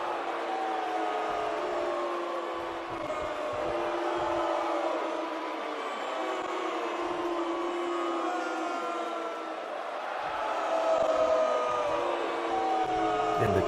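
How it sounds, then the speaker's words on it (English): Wrestling crowd booing a heel wrestler in the ring as he tries to speak, a sustained mass of jeering voices and bellows rising and falling, swelling louder toward the end. "the crowd just not letting him speak, just booing him out of the building"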